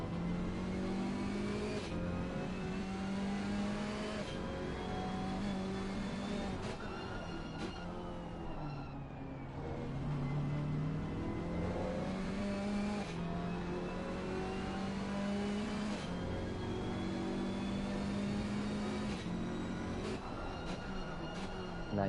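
Race car engine at Oulton Park's Shell Oils hairpin: a loud, close, continuous engine note drops as the car brakes, with downshift steps, then climbs steadily under acceleration with repeated gear-change breaks, no talk.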